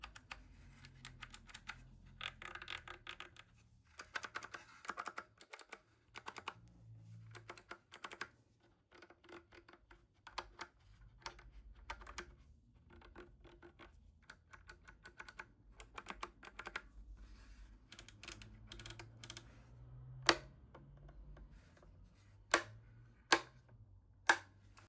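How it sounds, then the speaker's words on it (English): Knobs and switches on a WINWING PAP3 Boeing 737 MCP clicking in dense rapid bursts of close, crisp ticks, with a few sharper isolated clicks near the end. "The knobs and switches have a satisfying tactile response."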